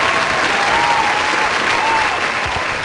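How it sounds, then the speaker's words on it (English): Sustained, loud audience applause filling the whole stretch as a dense, steady wash of clapping with no pauses and no talking. "So a round of applause to you."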